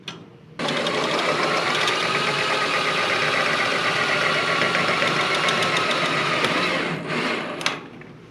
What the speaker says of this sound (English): we're going to switch it on the white leg that's going to turn this blower motor on